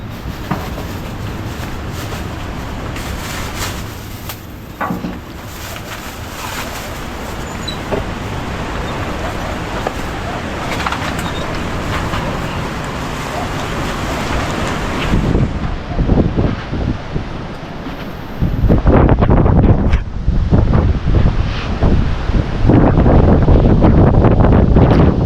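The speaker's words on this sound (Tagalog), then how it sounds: "mahangin" Strong sea wind buffets the microphone aboard a small boat, a steady loud roar with gusty bursts that grow heavier and more booming toward the end, with no talk.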